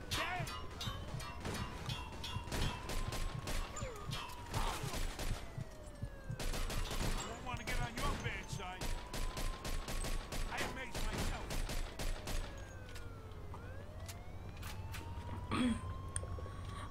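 Bursts of gunfire in the Mafia 2 video game crackle through a game scene, rapid volleys and single shots repeating throughout at moderate loudness.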